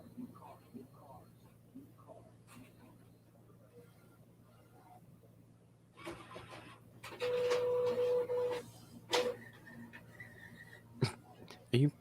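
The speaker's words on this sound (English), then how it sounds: "Are you printing again?" A printer runs in the background of a home podcast recording, with quiet talk and room noise and then a louder mechanical whirring burst with a steady tone partway through, followed by a few short clunks.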